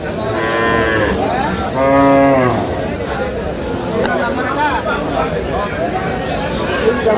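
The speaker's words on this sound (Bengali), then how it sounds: "আর এখানে একটি গাভী বাছুর" A dairy cow and calf moo twice, long and close, amid a crowd of people chattering and the busy outdoor hubbub of the Aftabganj livestock market in Dinajpur, Bangladesh.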